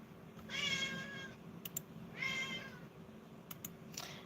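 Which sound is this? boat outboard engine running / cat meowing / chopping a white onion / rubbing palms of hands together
cat meowing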